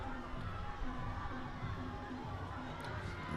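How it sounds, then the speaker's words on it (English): At a swimming championship, spectators cheer and shout in a steady, echoing wash of crowd noise, with children's voices mixed in, moderately distant. "The crowd has gathered around and are supporting their swimmers"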